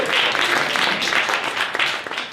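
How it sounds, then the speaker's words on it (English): An audience bursts into loud, dense applause, many hands clapping in a continuous roar that holds steady for a couple of seconds with scattered sharper claps toward the end. "Give a round of applause, please."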